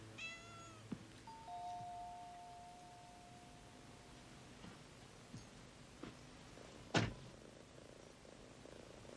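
A cat purrs softly and meows, heard faint and close in a quiet room, with a short bright ding-like tone near the end.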